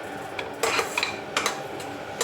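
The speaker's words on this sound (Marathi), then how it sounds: "असं चांगलं घाटलायचं बेसन," A metal spoon stirs gram flour (besan) coating bell peppers in a pan over low heat, with several quick scraping clinks against the pan in an irregular rhythm over a faint background hiss.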